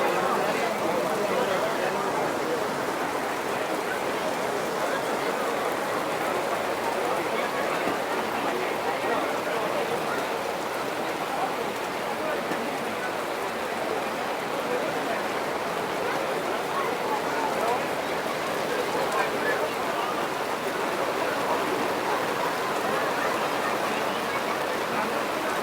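Heavy, steady downpour roars outside a shelter at a mosque during iftar in the USA, a dense continuous wash of rain that stays loud and even throughout.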